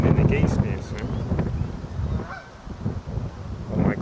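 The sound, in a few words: geese honking while being fed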